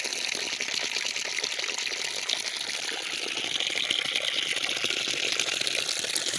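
Water gushes and splashes steadily for several seconds as someone washes their face, a close, continuous hissing trickle with small spatters and no talking.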